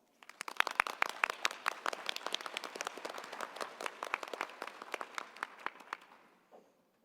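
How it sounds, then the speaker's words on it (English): Applause from a conference audience at a student day workshop, many hands clapping steadily for several seconds before thinning out and fading away at the end. "So if you all take a moment, a round of applause"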